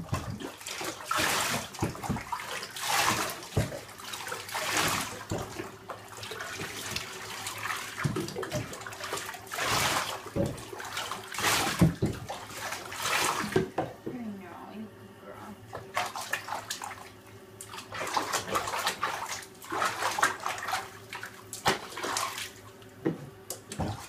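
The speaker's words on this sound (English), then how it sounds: "when you're rinsing off, make sure to hold the head so nothing gets in the eye." A Shorkie dog being rinsed in a bath, with running water pouring and splashing in repeated bursts while a person talks.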